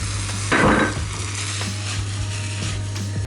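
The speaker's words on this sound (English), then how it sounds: "Now, give it a good whisk." A whisk beats through a pumpkin purée mixture in a bowl, close and steady with a wet, rushing scrape and a brief louder swirl early on, and no voices.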